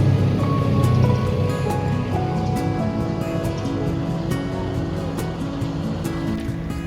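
Ocean waves washing onto a beach beside a seaside homestay near Bandar Lampung, a steady close surf roar throughout, with faint higher sounds in the background and no talking.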